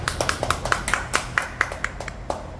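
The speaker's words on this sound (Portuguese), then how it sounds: "Show de bola. Palmas" A run of sharp hand claps at a steady, fairly quick rhythm, about a dozen in a row, close by and clear.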